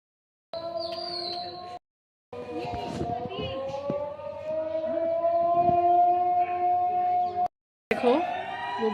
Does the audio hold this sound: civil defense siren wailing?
yes